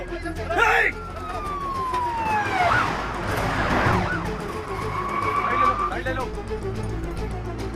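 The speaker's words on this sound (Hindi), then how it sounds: "पुलिस की गाड़ी आ रही है, जल्दी।" Police siren wailing at a distance, rising and falling sweeps over steady traffic and street noise, with voices mixed in.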